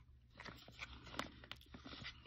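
A crisp crunch of teeth biting into a piece of smoky, earthy edible clay, close and fairly faint, with a few small crackling snaps over about two seconds.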